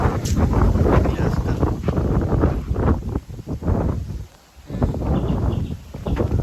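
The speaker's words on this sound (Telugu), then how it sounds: "ఇప్పుడు గాలి ఒక రేంజ్లో వస్తుంది. గాలి చల్లగా" Strong, cool wind gusts roar steadily across the microphone outdoors on the way to a village, a loud continuous rush that dips into a brief lull near the end.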